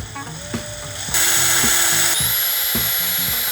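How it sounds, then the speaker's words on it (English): A power drill whines steadily and close, rising in pitch as it grinds into a Motorola RAZR phone, with faint rhythmic clicking underneath. "We're gonna drill a little higher up this time as well."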